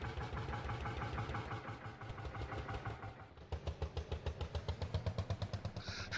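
A tractor engine in a farming video game chugs in a steady, rhythmic low throb, briefly dipping before settling into stronger, evenly pulsing beats.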